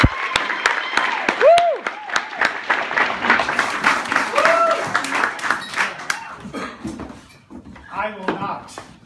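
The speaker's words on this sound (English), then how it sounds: "So please give him a warm round of applause." Audience applause welcomes comedian Ralph Fredericks back onto the stage, a burst of clapping blended with voices and cheers that thins out toward the end.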